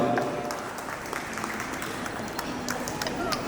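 An audience claps at an evening Onam celebration as a guest is welcomed onto the stage, a steady dense patter of many hands sustained throughout without pause.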